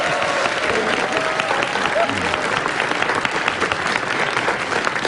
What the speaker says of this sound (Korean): 기자에게 박수 부탁드립니다